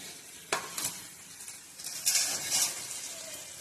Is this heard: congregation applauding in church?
no